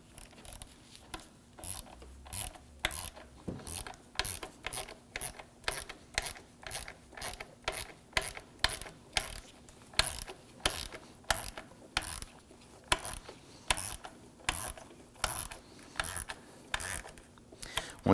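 A hand ratchet snugs down a screw on a 2015-2020 Ford F-150 2.7L V6 intercooler, giving rapid, rhythmic bursts of close metallic clicking strokes repeated steadily throughout, with no talking.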